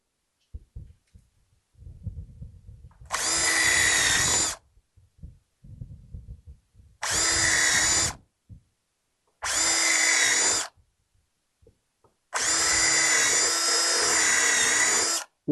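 Power drill boring through 1-inch thick wood for a tall deck chair: four loud whirring bursts, each lasting one to three seconds, separated by quiet gaps with faint handling knocks.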